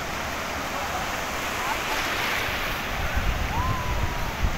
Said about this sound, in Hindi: ये लहरें आ रही हैं